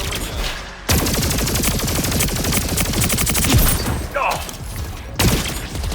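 Charge pistol fire in a video game, loud and close, with rapid dense volleys of shots in long bursts broken by brief pauses.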